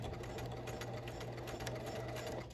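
A sewing machine runs steadily for a couple of seconds while stitching an apron pocket, with a close, even mechanical hum.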